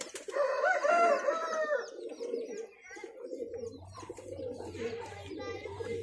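A female Punjabi highflyer pigeon coos in a soft, repeated warbling rhythm close by, while a low steady hum enters midway and brief voices talk in the background.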